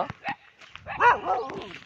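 A few short dog barks and yips, fairly close, in quick succession with brief gaps between them.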